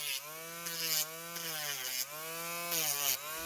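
A Dremel rotary tool cutting an RC4WD steering part, a steady high-pitched motor whine that rises and falls slightly as it bites into the piece, close and unbroken.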